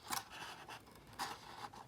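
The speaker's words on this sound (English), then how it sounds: "So I'm going to cut along the side. I'm not going inside of it. Carefully cutting slowly." Scissors carefully cutting paper, a few quiet snipping and scraping strokes spaced apart, close and faint with no voices.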